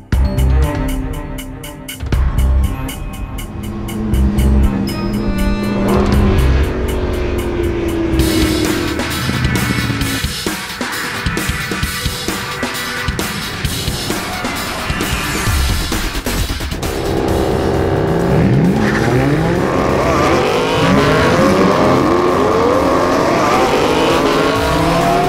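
Cars drag racing at an airfield, loud engines revving hard and accelerating past close by, with tire squeal and repeated high-pitched roaring runs layered over one another for the full stretch.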